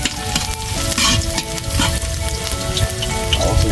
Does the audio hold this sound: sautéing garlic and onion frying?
yes